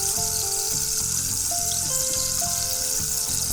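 Prawns coated in ginger garlic paste fry in hot oil with turmeric while being stirred, giving a steady loud sizzle with rhythmic scraping strokes, heard alone with no voices.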